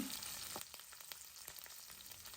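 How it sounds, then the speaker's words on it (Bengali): Dried fish frying in mustard oil in a wok makes a soft, steady sizzle, broken by faint clicks of stirring at intervals, with no voices. "কড়াতে আবারও সর্ষের তেল দিলাম শুটকি মাছ ভেজে নেব"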